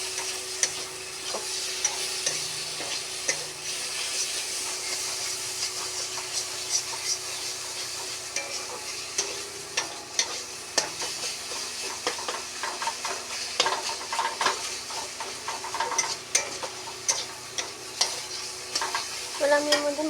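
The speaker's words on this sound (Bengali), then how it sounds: "ভালো করে মশলাটাকে কষাতে হবে।" A spice masala with chilli powder is stirred and fried in a pan, giving a steady close sizzle with frequent scraping and clinking stirs throughout, and no voices.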